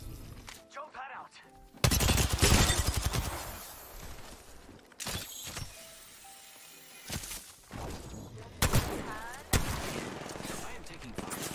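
Gunfire crackles in an Apex Legends match, loud bursts of rapid shots and sharp impacts in several clusters, with a voice and game sounds between them.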